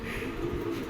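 A pair of racer pigeon chicks gives a soft, low, steady cooing for about a second, close by and faint.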